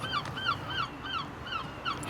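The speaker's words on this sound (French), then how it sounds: "On entend des mouettes" Seagulls calling at dawn over Dieppe, Normandy, giving a steady run of repeated squawking cries at moderate distance, with a low background hum and a short thump at the very end.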